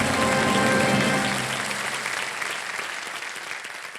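A studio audience on the quiz show KBC bursts into loud, dense applause that gradually tapers off, with faint musical tones underneath at the start.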